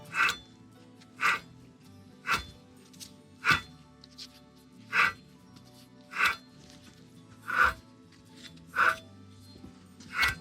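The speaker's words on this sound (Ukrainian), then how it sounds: "І тепер можемо послухати, який шум видавав підшипник." Worn wheel hub bearing from a 2007 Mitsubishi Lancer X, still in its steering knuckle clamped in a vise and turned by hand; a regular grinding rasp repeats about once a second, with nine or so evenly spaced bursts.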